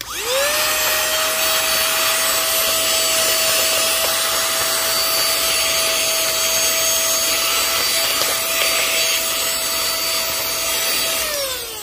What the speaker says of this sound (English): Just make sure that you use your vacuum cleaner.